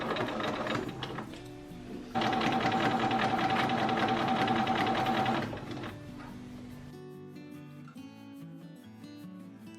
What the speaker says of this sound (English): Now it's time to sew the darts.